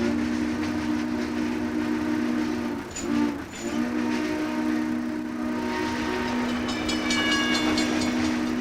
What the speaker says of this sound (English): Hop aboard and ride the rails on what was once America's freedom train.